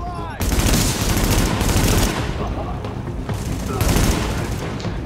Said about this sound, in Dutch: Er zijn gangsters die schieten op een helikopter.